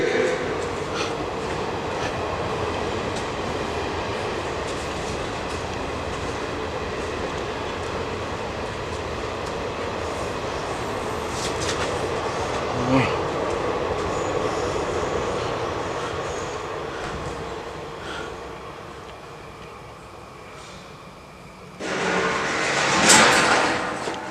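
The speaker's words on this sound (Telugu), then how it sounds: "పోతుంది కదా అది ట్రైన్" A train rumbles past steadily for about twenty seconds with faint squeals and clatter, then a brief louder rush near the end.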